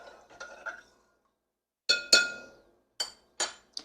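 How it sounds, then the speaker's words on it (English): Spoon clinking against a glass container while starter culture is stirred into warmed plant-based milk for yogurt, a few sharp close taps in quick groups separated by short silences. "Now I'm just going to add it right here to the warmed milk and give it a little stir."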